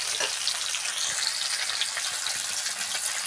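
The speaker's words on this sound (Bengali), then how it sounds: "ভাজা হয়ে গেছে, মাছটা প্রায় হয়ে গেছে, তাই আমি কেড়ে নিচ্ছি" Fish frying in oil in a village kitchen, a dense, steady hiss and crackle of sizzling that runs continuously and fairly loud, with no talking.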